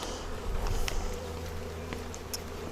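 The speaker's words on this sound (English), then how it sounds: "just going to see if we can clear some of these bees away" Honey bees swarm around an open hive during a hive split, making a dense, continuous buzz with individual insects darting close by.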